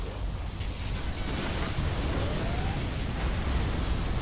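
Particle cannon superweapon in the Command & Conquer Generals real-time strategy game, a loud sustained roaring blast of broadband rumble that holds steadily for about four seconds, with a faint rising whine partway through.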